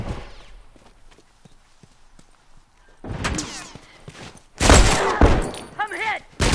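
Rifle fire in The Last of Us comes as loud, sharp bursts in a game firefight, beginning after a quiet stretch and growing heavier toward the end, with shouted voices over the shooting.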